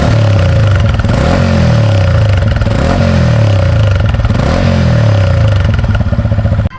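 A Yamaha XSR 155 cafe racer fitted with a Yamaha R25 exhaust revs repeatedly, close and loud, its engine pitch rising and falling in a steady cycle of throttle blips with a raspy, rattling edge.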